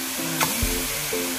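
Garlic sizzles in a hot pan while frying for Filipino adobo, a steady close hiss with a brief stirring scrape partway through.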